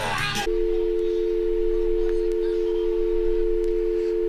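A steady electronic call-ended tone drones at a single pitch after a brief burst of noise, holding level and moderately loud for about four seconds.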